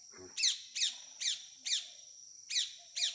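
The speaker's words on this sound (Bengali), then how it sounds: "Blue and gold Macau, Macau পাখি।" A blue and gold macaw lets out six harsh, high squawks at an even rhythm, fairly close, each call short and rasping.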